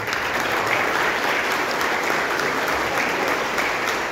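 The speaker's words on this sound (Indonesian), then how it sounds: "Kita berikan aplaus untuk dari Dr." An indoor audience applauds for Dr. Khalid at a visit event in Indonesia, a sustained, fairly loud wash of clapping hands lasting about four seconds.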